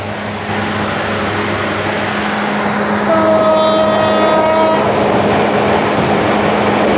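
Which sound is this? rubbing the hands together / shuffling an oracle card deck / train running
train running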